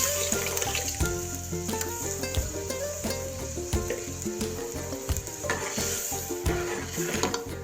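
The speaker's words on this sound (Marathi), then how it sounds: "आता याला उकळा फुटलेला आहे, तर मी याच्यामध्ये वरण टाकत आहे" Dal being tipped into a boiling pot and stirred, a close, continuous bubbling and sizzling with repeated knocks and scrapes of a spoon against the metal vessel, no talk.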